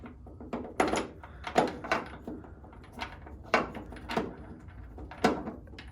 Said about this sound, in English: Now the next thing I want to do is put in these door strikers here.